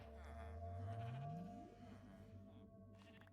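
Sheep bleat in a Minecraft sheep farm: one loud, wavering blocky-game bleat that rises in pitch, over a steady electronic hum with a few fainter tones near the end.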